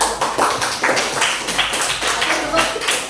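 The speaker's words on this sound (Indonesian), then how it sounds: "tepuk tangan dulu" Hands clapping in a classroom after a mathematics lesson, a dense, steady patter of claps running the full length at moderate loudness, with some voices mixed in.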